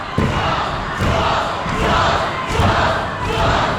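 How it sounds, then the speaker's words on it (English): A packed wrestling arena crowd roars and cheers continuously, a loud dense wall of voices that swells in waves with a few thuds underneath. "Listen to this arena. Listen to the crowd."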